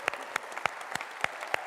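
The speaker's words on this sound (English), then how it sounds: "I would like you all to give yourselves a round of applause" A small church congregation gives a short burst of applause, with distinct individual claps spaced almost rhythmically and heard close and clear.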